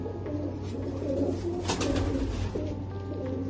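Pigeons in a Punjabi pigeon keeper's loft coo steadily at moderate volume for several seconds, with a low continuous hum underneath and no voices.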